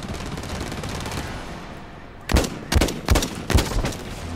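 Gunfire from a weapon in the video game Blacklight Retribution, a burst of several loud, close, punchy shots in quick succession after a steady background rumble.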